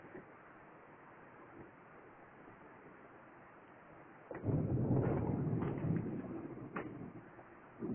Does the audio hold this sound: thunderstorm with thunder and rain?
yes